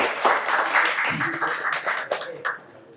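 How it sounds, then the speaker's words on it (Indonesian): An audience at an Islamic talk show claps for a guest in a short, lively burst that fades within three seconds, with a voice briefly audible over the clapping. "Bisa beri tepuk tangan yang meriah untuk Koh Denditan."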